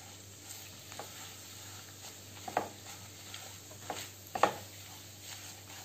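Chilli powder, Kashmiri red chilli, kala masala and garam masala are mixed and fried in a pan for misal, a faint low sizzle with occasional clinks and scrapes of a spoon against metal.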